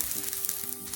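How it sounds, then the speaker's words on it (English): Shallots and garlic sizzle steadily in a generous layer of hot oil as they are stir-fried, a close, continuous crackling hiss with no voices. "หอมแดงกับกระเทียมค่ะแล้วก็ผัดไปให้หอม"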